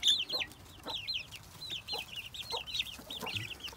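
Hens cluck in a farmyard with a young chick nearby, giving a close, repeated run of short, bright clucks in an uneven rhythm while low rustling and handling noises sit underneath.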